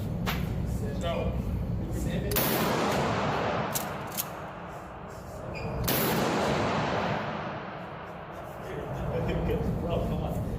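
Two loud shotgun blasts ring out at a shooting range, a few seconds apart, each with a sharp crack and a decaying tail, while people talk nearby.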